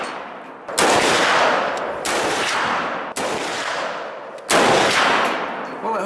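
AR-15 rifle chambered in .50 Beowulf fired from a standing position outdoors, four loud, heavy shots spaced about one to one and a half seconds apart, each with a long rolling echo.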